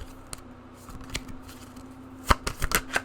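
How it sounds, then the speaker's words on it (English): Tarot cards shuffled and laid out on a surface, starting with soft rustling and then a cluster of sharp, close card slaps and flicks toward the end. "Sorry that the cards may be a little bit loud. I'm trying to just have all the cards out first."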